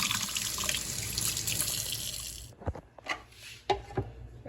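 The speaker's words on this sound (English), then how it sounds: "First off, we're gonna wash our zucchini up." Tap water runs steadily while a zucchini is washed, then cuts off into a few wet handling knocks and drips near a sink.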